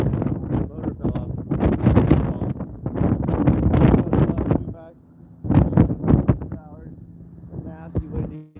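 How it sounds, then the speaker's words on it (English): Strong, nasty wind batters a fishing boat headed out to the grounds in Alaska. Loud roaring gusts buffet the microphone, briefly ease, then surge again, with a faint voice near the end. "Nasty windy today."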